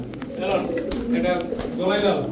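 A male pigeon with a red neck coos in low, throaty bursts, close by, with a faint voice mixed in.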